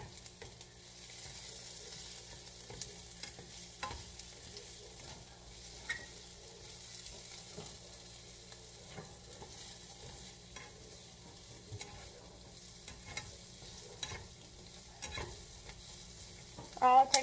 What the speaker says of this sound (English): this is my first time sauteing onions